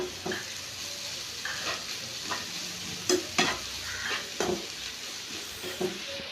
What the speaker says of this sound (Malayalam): ആദ്യം നമുക്ക് പച്ചമുളകും ചേർത്ത് കൊടുക്കാം അതിനുശേഷം വെളുത്തുള്ളി ചേർത്ത് കൊടുക്കാം എല്ലാം മിക്സ് ചെയ്യുക